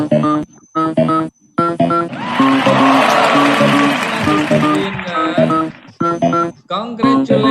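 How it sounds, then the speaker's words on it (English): Classroom students clapping for a winning team, a burst of applause of about three seconds between stretches of a teacher talking. "Okay, give applause to Team A, Mbak Aisyah and friend."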